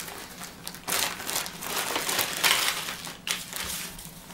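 Close crinkling and rustling of a small plastic bag from a camping first-aid kit being handled, in several bursts of crackle with brief pauses.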